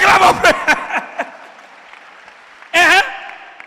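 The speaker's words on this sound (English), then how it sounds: "Give Jesus a clap of praise" A church congregation breaks into a short, loud round of clapping in praise, rising suddenly after a preacher's spoken lines and fading quickly.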